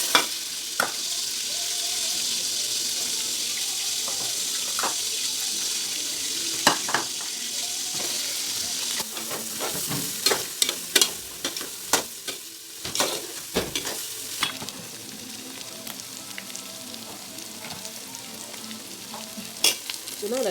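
Onions and spices fry in red palm oil for okra soup, a steady close sizzle broken by repeated stirring scrapes and clinks of a spoon against the pot.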